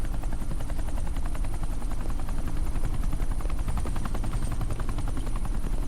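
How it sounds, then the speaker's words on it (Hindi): Helicopter in flight, heading in to land on an airport tarmac, with a loud, steady thumping rotor beat and broad engine roar filling the whole stretch, no voices over it. "ये हेलीकॉप्टर सीधे एयरपोर्ट के टारमैक पे लैंड होगा।"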